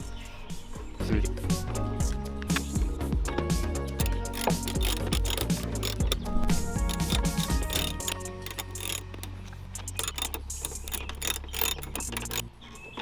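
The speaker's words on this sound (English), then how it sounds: "take your screws and screw these back on" Repeated ratcheting clicks and small mechanical ticks from a screwdriver driving screws back into a 10th-generation Honda Civic brake and reverse light assembly, close and busy, continuing steadily.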